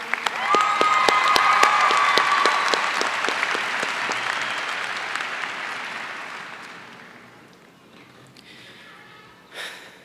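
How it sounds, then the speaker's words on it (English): A large graduation audience breaks into sustained applause at a high school ceremony, a dense roar of clapping that gradually fades away, ending with a short burst of noise. "Please give a round of applause for her."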